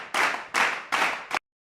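Three loud, close, broad bursts of clapping follow one another steadily, then a shorter fourth burst cuts off abruptly into silence.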